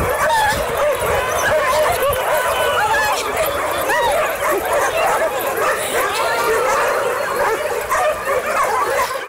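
Many dogs at a large dog park barking, yipping and whimpering together, a dense, loud, overlapping chorus of high excited yelps that continues without pause.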